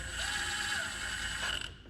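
Ratchet turning side cover bolts on a Predator 212 small engine, a steady run of fine mechanical clicking up close, continuous and fairly quiet, ending in a sharper click.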